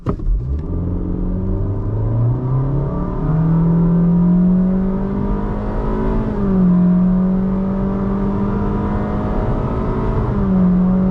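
A new Honda City accelerating hard from a standstill to 100 km/h, its engine rising loud and close through several gear changes, each shift dropping the pitch before it climbs again, with no one talking.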